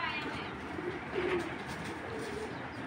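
A male racing pigeon, a 2024-born bird, coos softly in a single low burst near the middle, close by against a steady background hiss.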